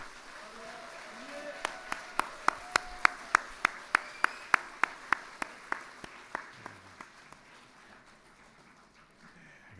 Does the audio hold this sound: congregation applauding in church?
yes